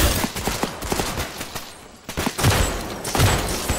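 Sniper rifle fire in the battle royale video game Off the Grid on PS5, a rapid series of sharp, loud shots with echoing tails, spaced irregularly and standing alone without talk.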